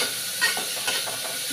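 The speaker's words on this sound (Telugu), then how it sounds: "బ్రౌన్ కలర్ వచ్చినంత వరకు వేయించుకోవాలి" Two chopped onions sizzle in hot tempering oil for an eggplant curry, a continuous close frying hiss broken by a couple of soft stirring scrapes as they brown.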